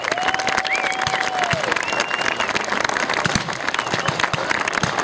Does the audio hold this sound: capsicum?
no